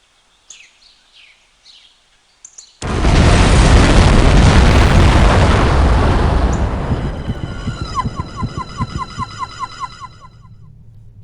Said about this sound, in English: there was an explosion of unknown origin in the town of Shilling, England